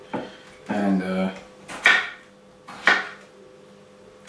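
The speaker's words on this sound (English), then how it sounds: "Just cut your cucumber in multiple pieces" A knife cuts cucumber on a board in a few separate strokes: a short rattling burst, then two sharp single chops spaced about a second apart, close and fairly quiet.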